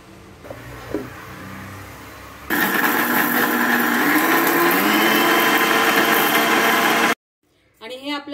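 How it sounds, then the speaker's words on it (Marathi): A mixer grinder whirs into life after a quiet start and runs loud and steady for about four seconds, grinding roasted spices with poppy seeds into an onion-and-garlic-free paste, then stops abruptly before a brief voice. "आता आपण हे मिक्सरला वाटून घेऊया"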